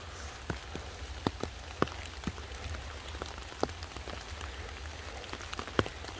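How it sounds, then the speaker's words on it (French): Steady rain patters on a surface, with distinct drops ticking irregularly over a soft constant hiss. "Avec la pluie qui tombe de plus en plus fort"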